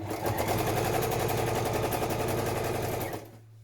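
A sewing machine stitching a padded patchwork journal cover runs in a fast, steady mechanical whirr of rapid needle strokes for about three seconds, then stops abruptly, leaving a low hum.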